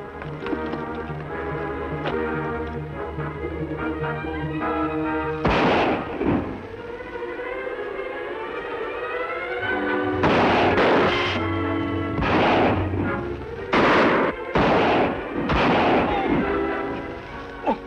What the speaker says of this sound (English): I'll fire to keep them back.